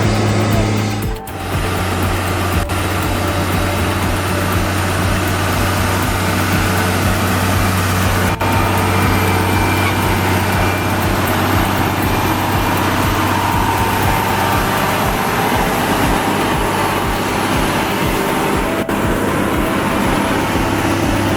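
Wood tractor truck engine running in a forest, a loud, steady mechanical drone with a constant low hum and occasional clanks, continuing evenly for a long stretch.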